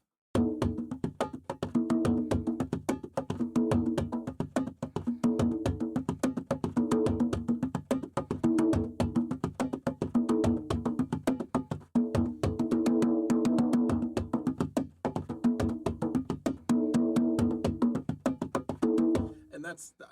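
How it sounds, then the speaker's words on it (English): A djembe played in a steady rolling West African 12/8 groove, dense repeated strikes for about twenty seconds, close and loud, stopping near the end. "This is a djembe, which is a West African drum."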